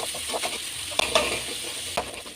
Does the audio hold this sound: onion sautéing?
yes